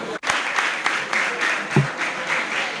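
A stakeholder audience at a mayor's briefing stands and claps, a continuous mid-level wash of many hands with a few louder accents and faint voices underneath.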